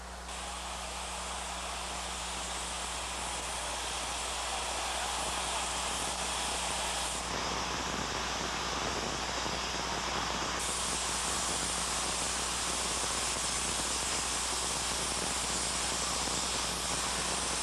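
Narrow gauge Baldwin 2-8-0 steam locomotive, built 1917–1920, hissing steam continuously at close range, a loud broadband rush that thickens partway through over a low steady rumble.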